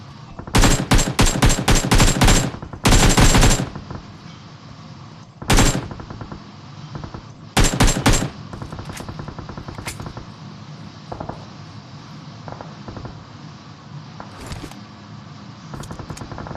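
Video game gunfire rattles out in loud, close bursts of rapid automatic fire, several volleys in the first few seconds and then scattered shots, over a steady background hum.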